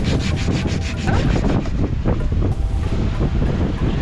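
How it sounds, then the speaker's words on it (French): Sanding a repaired boat part on a sailboat crossing the Pacific, with a steady rasping rub under wind noise throughout, close and fairly loud with no talking. "Un peu de ponçage"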